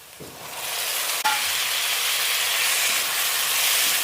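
Chopped tomatoes hit hot oil in a pan and burst into a loud, steady hissing sizzle that fills the space, with a sharp clack from a utensil early on and no voices.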